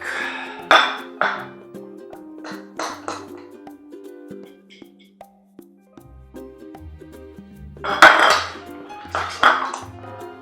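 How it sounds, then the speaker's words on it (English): Balsamic vinegar and garlic mixed in a bowl for a mushroom dish, with a utensil clinking against the bowl in quick clusters of sharp taps, a long quiet stretch between them, then a louder burst of clinks near the end. "what we're going to do is just combine all of those along with the garlic"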